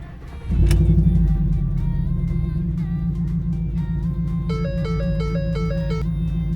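A Ford Raptor pickup truck engine cranks and catches, then settles into a loud steady idle rumble, with a faint warning chime pulsing in the background.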